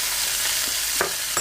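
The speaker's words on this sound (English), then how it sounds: "Hear that sizzling? It's our chicken." Steady hissing sizzle of chicken frying in a pan, with a couple of soft clinks from a spoon stirring near the end.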